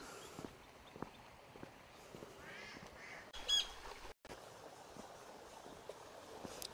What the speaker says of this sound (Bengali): খুব সুন্দর পাখি ডাকছে এখানে।